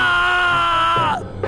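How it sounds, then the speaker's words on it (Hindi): A single loud, drawn-out scream, high and strained, that breaks off abruptly after about a second. "एक खौफनाक चीख के साथ रोहित ठंडा पड़ गया"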